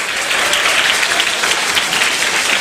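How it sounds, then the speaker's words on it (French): Audience applause at a live Senegalese stage show, loud and dense clapping from a large crowd, sustained and even throughout. "Alors, applaudissez pour vous"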